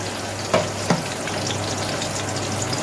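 Beef fat frying in a pan, a steady broad sizzle throughout with two brief knocks or stirs early on, close and fairly loud with no voices.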